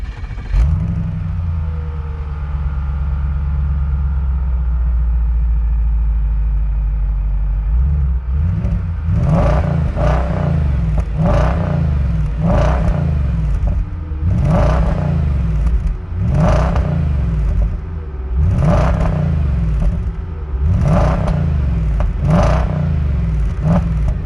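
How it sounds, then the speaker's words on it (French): An Audi S5 with a naturally aspirated V8 idles with a deep rumble, then is revved repeatedly in sharp, evenly spaced blips that rise and fall, loud and close with no talking. "Audi S5 V8 atmosphérique."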